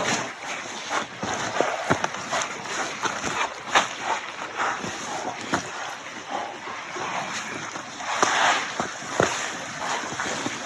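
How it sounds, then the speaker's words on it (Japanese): Water sprayed over the leaves of cultivated Kōya-no-mannengusa moss just after liquid fertilizer was applied: a steady, close hiss of spray with scattered pattering droplets, continuous throughout with no voices. "葉っぱに水をかけて薬害が出ないように対策をして"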